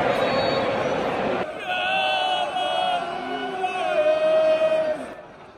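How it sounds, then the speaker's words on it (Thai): Aston Villa fans cheering in a Premier League football stadium in London, a sustained crowd roar with rising sung chants, heard from within the stands and fading at the end. "เสียงเชียร์นี่คือเสียงเชียร์ของแอสตันวิลล่านะครับไม่ใช่เสียงเชียร์ของเจ้าบ้านเลย"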